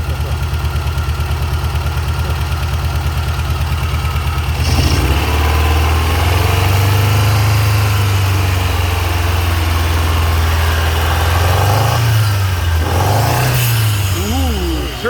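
A Shelby left parked for twenty years, running again with its turbo, settles from an uneven start into a steady low idle, then rises in a few brief revs near the end; background voices talk underneath.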